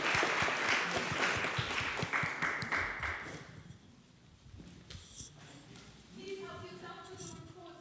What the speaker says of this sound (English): I would like that we applaud the speakers and the discussion.